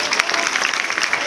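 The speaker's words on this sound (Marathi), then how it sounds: "टाळ्या वाजवायच्यासाठी" An audience at a solid waste management awareness program under the Clean Maharashtra Mission claps together in a brief, dense burst of applause, with some voices mixed in.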